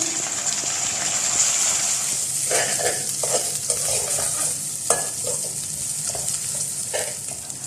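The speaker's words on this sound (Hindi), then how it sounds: "जीरे को थोड़ा सा भूनने के बाद जो लहसुन अदरक की पेस्ट है ये इसमें डाल देंगे।" A steady frying sizzle of garlic-ginger paste with cumin fills the clip, with stirring scrapes and clinks on top, close and continuous.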